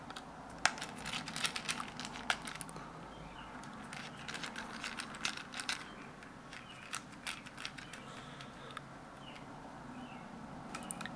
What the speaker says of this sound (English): Now we're going to tighten down these connections.